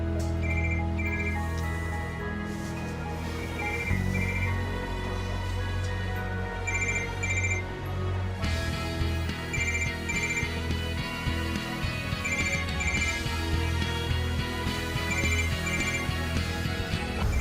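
A telephone rings insistently with repeated electronic trilling bursts in a steady pattern, loud and continuous over a layer of background music.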